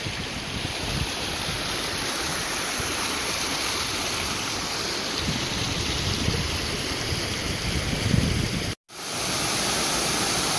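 Hamilton Creek in the High Sierra tumbling down into a pool, a loud, steady broadband rush of flowing water heard close up for about ten seconds, briefly cut by a short gap near the end.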